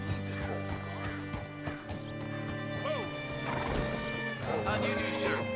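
Horse hooves clip-clop in Red Dead Redemption 2, with a horse whinnying and snorting nearby, mixed with game sound effects and a steady background hum.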